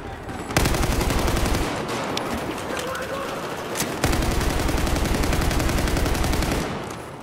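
Continuous gunfire in Battlefield 4 multiplayer, a loud steady stream of rapid shots with a brief pause midway before firing resumes, over a dense battlefield din.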